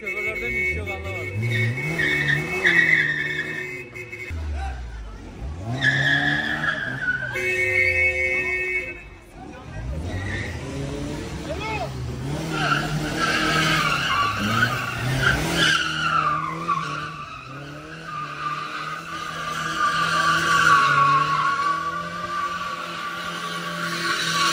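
Cars spin and skid around an industrial area in Izmir, with long tire squeals and rising, falling engine revs over several seconds, while people talk throughout.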